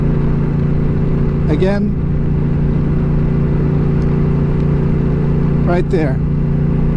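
Honda Rebel 1100 motorcycle fitted with a Batwing touring screen accelerating from 50 toward 60 mph, a steady low engine drone with wind rush throughout while a rider talks briefly over it.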